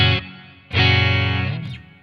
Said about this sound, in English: Let's put that reverb on top of it.